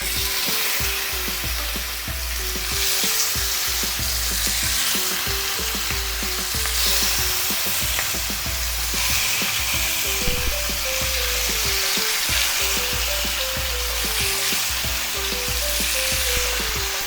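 Chicken pieces frying and sizzling in a pan for a green chicken curry, with a steady, dense sizzle throughout and intermittent scraping and stirring clatter, close and loud, with no talking.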